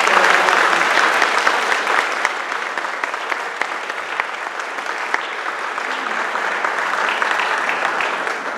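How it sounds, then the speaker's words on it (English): An audience at a guide-dog class graduation applauds the staff: loud, sustained clapping from a sizable crowd, continuous throughout with sharper individual claps standing out. "let's give a round of applause for all of them"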